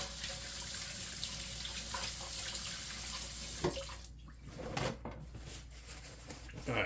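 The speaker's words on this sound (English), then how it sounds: "Now, give our hands a quick rinse here." A kitchen tap runs steadily while hands are rinsed under it, a soft continuous hiss of flowing water with some splashing and brief bumps near the end, heard quietly and alone.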